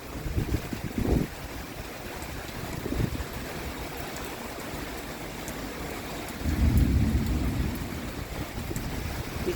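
Steady rain pours with gusting wind during a thunderstorm over rice fields in Surin, Thailand, with low rumbles of thunder swelling twice near and far.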